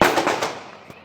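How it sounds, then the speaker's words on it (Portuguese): Gunshots ring out in a pre-dawn shootout between bank robbers and police in a town centre, a rapid burst of sharp cracks that fade into echoing decay, with one more isolated report near the end. "Eles trocam tiros com a polícia."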